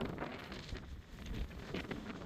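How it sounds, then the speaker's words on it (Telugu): Strong desert wind blows steadily in Kuwait during a sandstorm, a loud, buffeting rush that batters the microphone throughout with no speech. "ఫుల్ గాలి వస్తుంది అనమాట"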